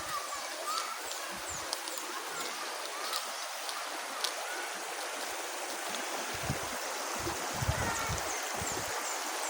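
Cold, clear mountain stream flowing down from Mt. Matutum, a steady broadband rush of water with occasional splashes and bird chirps on top, continuous and fairly close, no speech.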